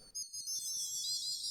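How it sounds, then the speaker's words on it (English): A synthesized sound of high, warbling whistles with sonar-like sweeps, like frantic dolphins, plays over soft low pulsing blips. It is continuous and close, with no talking. "Kind of a whistling sonar like demented dolphins type sounds"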